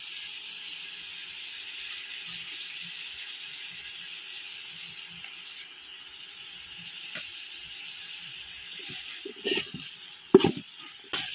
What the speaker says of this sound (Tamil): இந்த ஸ்டேஜில் அரைச்சி வச்சா இஞ்சி பூண்டு பேஸ்ட்டை வந்து பார்த்தீங்கன்னா சேர்த்துக்கலாம்.